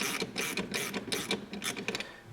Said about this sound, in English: We're just going to take our 10mm socket with an extension